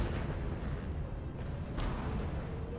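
Pak 36 anti-tank guns fire in a World War II strategy game, a dense continuous rumble of overlapping booms and blasts with no clear gaps, steady and loud throughout.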